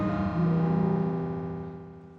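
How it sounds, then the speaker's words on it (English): A short, ringing metallic tone from a granular delay effect, with a buzzy, distorted texture, swells briefly, then decays away over a couple of seconds. "then you get this really weird metallic-y sound"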